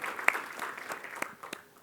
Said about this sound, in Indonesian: Ya, kita beri tepuk tangan buat Tuhan Yesus.